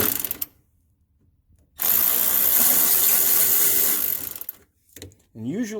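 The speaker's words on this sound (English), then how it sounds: "I'm going to go down in here with the ratchet on the bottom one." A ratchet loosening the tensioner pulley bolt on a 2004 Toyota Tundra engine makes a steady run of rapid clicking for about two seconds, close up, with brief handling noises before and after.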